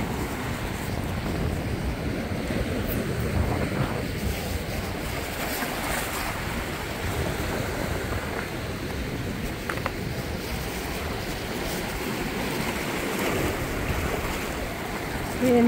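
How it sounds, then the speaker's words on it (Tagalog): Ocean surf rolls onto the beach at Devonshire Bay, Bermuda, a steady broad wash of waves with wind noise buffeting the microphone throughout, no clear breaks between swells. "Paka-relaxing yung sound ng wave dito."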